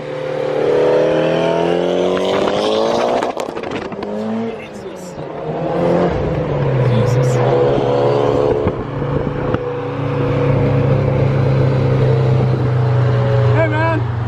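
A Mitsubishi Lancer GTX drives close by, its engine revving up through gears with rising and falling pitch, then holding a steady drone; people talk over it intermittently.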